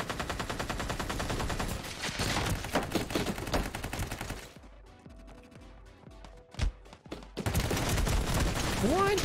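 Rapid bursts of automatic gunfire in the video game Ring of Elysium crackle loudly, give way to a quieter stretch with a few isolated shots, then the heavy firing resumes.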